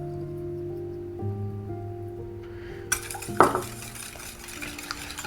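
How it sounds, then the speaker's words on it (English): A whisk runs through egg whites and sugar in a bowl with a quick scraping, clicking rhythm. It starts after a stretch of tonal hum and is loudest near the middle, with a few sharp metallic taps against the bowl. "We're gonna whisk this until it gets semi-stiff peaks."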